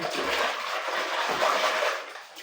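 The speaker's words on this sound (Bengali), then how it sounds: "হাতটা ধুয়ে নিচ্ছি এখানে হাতটা ধোয়াটা ভালো" Water runs loudly and steadily from a tap while hands are washed, a close, continuous splashing rush that fades slightly at the end.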